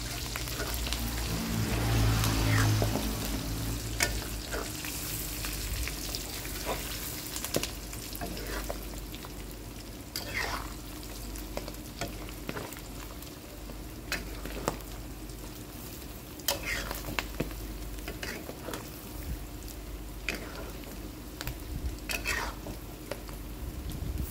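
Eel stir-frying with dried chillies in a hot pan, a steady sizzle running throughout with repeated sharp scrapes and clinks of a spatula against the metal, and faint talk at times under the frying.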